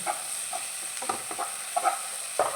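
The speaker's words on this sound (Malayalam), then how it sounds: "ഒന്നുകൂടെ നന്നായിട്ട് വഴറ്റാം." Paneer masala sautéing in a pan, a continuous close sizzle punctuated by several scraping stirs of a spatula, with no talking.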